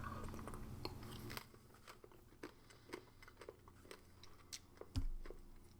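Firm crackers from a 2022 Kazakhstan 24-hour ration being bitten and chewed, with a burst of loud crunching at first and then softer, scattered crackly bites and chews close up, no talking.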